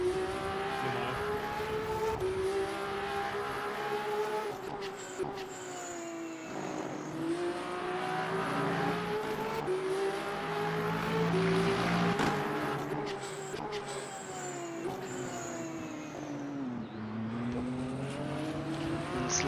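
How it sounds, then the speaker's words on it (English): A racing car engine in Le Mans Ultimate, heard from inside the car, drones steadily, its pitch rising and falling through gear changes, loud and continuous throughout. "The car sounds better from the inside."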